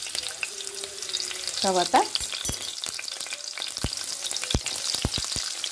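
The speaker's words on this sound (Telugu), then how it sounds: "ఫస్ట్ నూనె కాగిన వెంటనే మనం పచ్చిమిర్చి వేసుకుని వేయించుకోవాలి." Green chillies frying in hot oil for vegetable fried rice, a close, steady sizzle with scattered sharp clicks of a utensil against the pan; a single word is spoken briefly midway.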